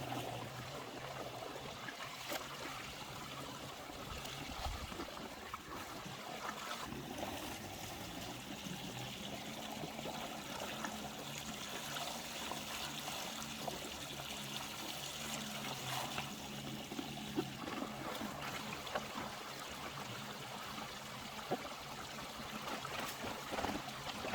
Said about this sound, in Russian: Подливаем рыбе воду, замещая старую долго